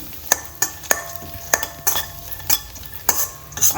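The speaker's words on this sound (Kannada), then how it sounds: "ನಾನು ಸ್ವಲ್ಪ ತುಪ್ಪ ಹಾಕ್ಬಿಟ್ಟೆ ಫ್ರೈ ಮಾಡ್ತಾಯಿದ್ದೀನಿ" Pumpkin seeds frying in ghee rattle under a soft sizzle, while a spoon knocks and scrapes the pan in sharp, irregular clinks roughly every half second.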